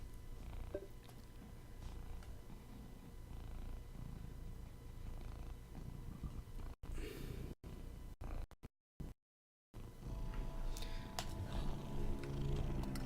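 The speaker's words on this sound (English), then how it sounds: "you can listen to my cat purr for a minute" A domestic cat purrs close to the microphone, a soft, continuous low rumble that carries on for many seconds. It cuts out briefly in several short gaps midway through before resuming.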